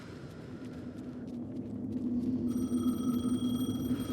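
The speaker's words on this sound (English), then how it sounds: "The phone again." Telephone ringing in Alan Wake 2, a faint ring over a low ambient drone that gives way to a sustained tonal trill growing louder in the second half, with no talking.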